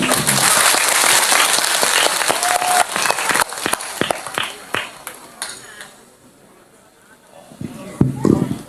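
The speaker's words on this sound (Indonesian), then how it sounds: "Tepuk tangan untuk BTV." An audience claps in a burst of applause with a few sharp individual claps, then the sound thins out before picking up again briefly.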